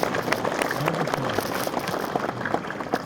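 Audience clapping at a Hindi poetry programme, a dense spatter of hand claps with some crowd murmur, steady and moderately loud throughout.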